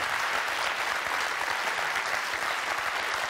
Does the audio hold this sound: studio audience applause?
yes